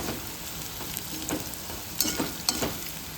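A sweet mixture frying in hot oil for a homemade Rakshabandhan sweet, with a steady close sizzle and intermittent scraping clicks from stirring, and no one talking.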